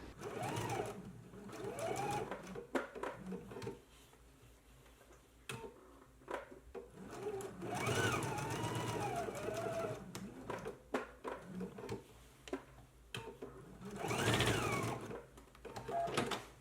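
A sewing machine stitches reinforcement at the marked dots of a jacket's lapel and collar, running in short uneven bursts with brief pauses between runs, fairly close and steady in level.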